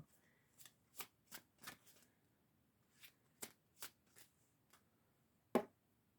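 Large tarot cards are shuffled close by in short, crisp riffling bursts, about a dozen spaced irregularly over several seconds, ending with a sharper louder snap; quiet room, no talk.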